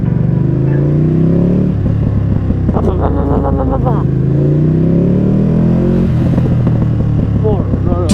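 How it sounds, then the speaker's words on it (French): A Ducati motorcycle engine revs and accelerates loudly up close in first gear, pitch climbing in repeated surges, with a voice speaking over it. "On se met en première, ok? On accélère."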